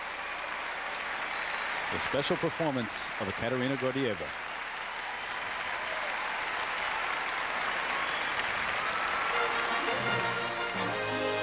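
An arena crowd in Tampa gives steady, appreciative applause at a figure skating exhibition, a broad wash of clapping that continues beneath a man's announcement and swells slightly toward the end.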